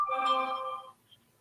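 A flip phone ringtone plays a single bright, tonal electronic burst that holds for nearly a second before cutting off, clear and fairly close, with no talk over it.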